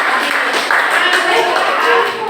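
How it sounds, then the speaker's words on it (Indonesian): A roomful of high school students claps together briefly, a dense, steady patter of hands lasting a couple of seconds, close and fairly loud. "Tepuk tangan."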